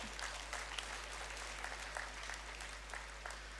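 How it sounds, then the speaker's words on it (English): A convocation audience at an academy of higher education claps in a soft, distant patter, faint and spread out, with scattered sharper claps over a steady low hum. "I think a big applaud is due for them."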